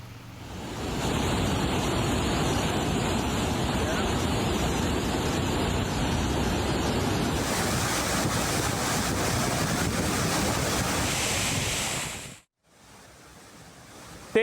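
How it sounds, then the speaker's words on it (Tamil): Flash flood torrents roar down the Courtallam waterfalls in Tenkasi after heavy rain, a loud, continuous rushing wash of water that holds steady before cutting off near the end. "தென்காசி பகுதியில் கொட்டி தீர்த்த கனமழையால் குற்றால அருவிகளில் திடீர் காட்டாற்று வெள்ளம் ஏற்பட்டது."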